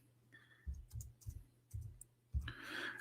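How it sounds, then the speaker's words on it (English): Keys clacking on a computer keyboard during a livestream talk, a few separate bursts of clicks close to the microphone, with a steady low hum underneath. "Excuse my keyboard."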